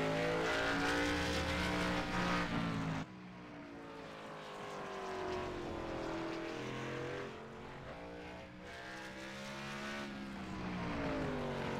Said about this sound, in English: Last car on the track right now. Looks like the 32 of Ryan Broderick in the Got Milk Chevy Impala SS.